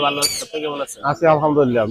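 Parrots at a crowded bird market in Gazipur Chowrasta, sounding as a series of loud, close squawks and harsh chattering calls that cover the whole clip, with a few short chirps in between.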